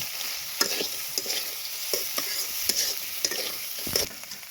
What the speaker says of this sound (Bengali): লবণ দিয়ে এটাকে আমি ভালো করে একটু ভাজিয়ে নিব